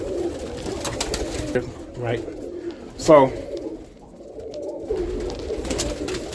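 Roller pigeons cooing in a loft, soft repeated coos with a sharper call near the middle over a constant low background, and someone speaking briefly.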